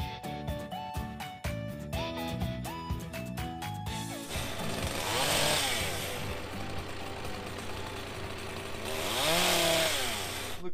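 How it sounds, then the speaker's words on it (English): A chainsaw cuts back trees along the front of a road on a ranch to clear space for an RV carport. A loud, continuous engine drone rises and falls, with sharper bursts at the start. "cut down some of the trees alongside the front of the road here so we can get the RV in"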